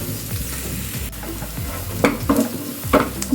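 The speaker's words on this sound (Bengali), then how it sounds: "এটাকে আমি মোটামুটি 2 মিনিটের মতো এইভাবে হালকা নাড়াচাড়া করব।" Palak paneer mixture gently stirred in a pan, a low steady simmer with soft repeated scrapes of the spoon that grow a little stronger in the second half.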